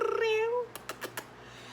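A house cat meows once, a clear, close drawn-out call, followed by a few soft knocks and rustles in a quiet room with faint background hum.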